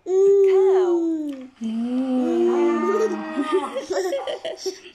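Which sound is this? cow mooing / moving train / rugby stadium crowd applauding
cow mooing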